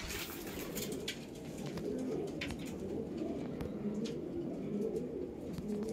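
Breeding pigeons, a Reggada male and a red-flower female, coo steadily and softly up close while being handled, a constant low rumble of cooing with faint rustling and occasional higher chirps over steady background noise.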